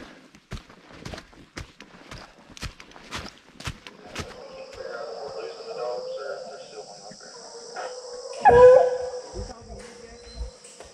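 Hunting hounds trailing a bear near a road and river bay and howl at a distance, with repeated short bursts early on and a sustained stretch later, mixed with footsteps and a brief loud knock.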